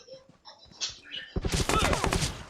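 Enemy gunfire in the mobile battle game PUBG Mobile rattles out as a rapid burst of shots in the second half, following a stretch of quieter game sounds and voices.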